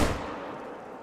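A single rifle shot fired while hunting in the video game theHunter: Call of the Wild, a sharp loud crack at the very start that decays into a long fading echo and reverberant tail.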